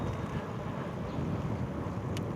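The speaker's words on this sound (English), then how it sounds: "the wind definitely is kicked up today" Strong wind buffets the microphone of a rider on an ebike, a steady loud roar with no pauses and no talk.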